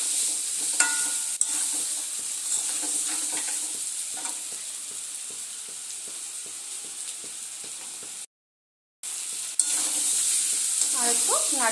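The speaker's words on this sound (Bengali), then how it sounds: "আর একটু নাড়ি চাড়িয়ে নেব, তারপরে একটু জল দিয়ে দেব" Crab curry with masala and fried potatoes sizzling steadily in a pan while a spatula scrapes and stirs in irregular strokes, close and loud, broken by a brief silent gap near the end.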